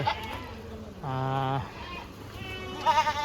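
Goats bleat at a goat and sheep distribution center: one long, loud, wavering bleat stands out in the middle, with shorter calls at the start and end over a busy farmyard background.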